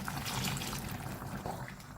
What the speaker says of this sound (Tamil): மிக்சியை கழுவி கொஞ்சம் தண்ணி ஊற்றிக்கலாம்